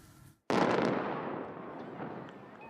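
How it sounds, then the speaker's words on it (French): A simulated missile impact set off with 7.5 kg of dynamite: after a brief silence, a sudden loud blast bursts out and then decays slowly into a long roaring, crackling rumble. "La défense passive de l'armée israélienne vient de simuler l'impact d'un missile d'une portée de plusieurs centaines de kilomètres"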